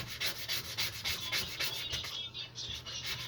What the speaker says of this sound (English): it starts off somewhat aggressive with the sanding, and it has like 3 or 4 steps